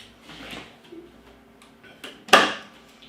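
Small plastic doors on a Philips Perfect Draft beer tap being opened, producing a few faint clicks and handling taps, then one sharper clack as a door snaps open, close by in a quiet room.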